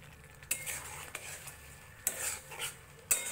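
A spoon stirs ridge gourd curry with nut paste in a metal pan, scraping and clinking against the sides in a few distinct strokes over a low sizzle, close and fairly quiet, no talking.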